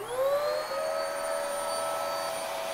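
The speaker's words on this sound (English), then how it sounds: "the way that we test a vacuum cleaner is we're going to turn it on" A vacuum cleaner runs close by with a steady high whine and whooshing air, pitch rising slightly as it spins up.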